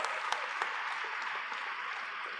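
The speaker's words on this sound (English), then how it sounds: "could we have a huge round of applause for all the 7 session coordinators?" Sustained audience applause at the closing of a world hindu congress in Bangkok, a dense steady clatter of many hands with no talk over it.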